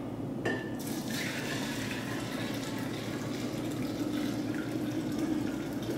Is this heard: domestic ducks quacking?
no